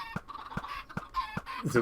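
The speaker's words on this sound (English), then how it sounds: "we'll just have to ignore the chicken noise for the time being" Minecraft chickens give short clucks in a steady, evenly spaced pattern, close by, with a scrap of a brief extra squawk at the end.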